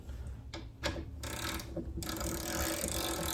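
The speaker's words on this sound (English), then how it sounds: "this is on my Gen 2 Icon ratchet" A Gen 2 Icon ratchet turning a Capri socket gives a close, fast, fine-toothed clicking, rising into a steady dense buzz of pawl clicks as it is swung continuously.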